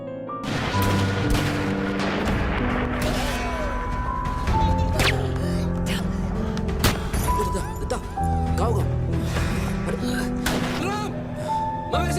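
Gunfire in a film shootout between police and a robber gang, sharp repeated shots and bangs scattered over a busy soundtrack with music and voices talking throughout.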